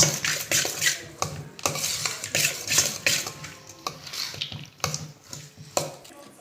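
A spoon stirs and mixes charmuri (puffed rice) ingredients in a bowl, giving repeated close scraping and clinking strokes in an uneven rhythm with no talk.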